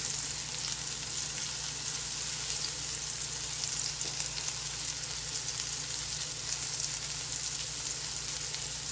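Zucchini slices sizzle steadily in a hot frying pan, a dense, even crackle and hiss that runs unbroken and close by for the whole stretch with no voices.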